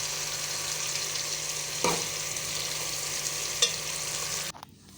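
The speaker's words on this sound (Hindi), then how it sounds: "हम उसे एक पैन में डाल के अच्छे से गरम करेंगे और इन प्याज़ों को फ्राई करके अच्छे से निकाल लेंगे" Onions fry in hot oil in a pan with a steady, dense sizzle and a couple of brief stirring knocks, close and fairly loud, until the sound cuts off abruptly near the end.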